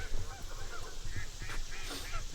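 Geese honk repeatedly at a distance in a large flock gathered outdoors, with overlapping calls scattered over soft background ambience.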